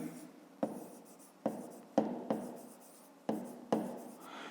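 A pen writes a perimeter formula by hand on paper during a fifth-grade maths exercise, six short close scratchy strokes, each with a sharp onset fading off, in a quiet room without talk.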